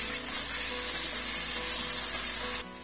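Chicken with leftover marinade sizzles loudly in a hot pan, a steady close frying hiss that holds for a few seconds and then drops off abruptly near the end.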